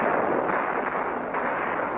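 Mortar fire during the 1968 Khe Sanh siege comes through as a dense, rumbling barrage of booms, fairly faint and distant, with no voices.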